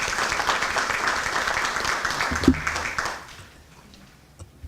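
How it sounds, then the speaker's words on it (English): An audience at a community forum on separation and stability claps for a speaker, steady full applause that fades out after about three seconds into a quiet room with a few stray noises. "Can we clap for Brianna, please?"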